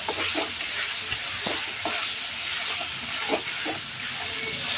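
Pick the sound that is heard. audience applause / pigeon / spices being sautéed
spices being sautéed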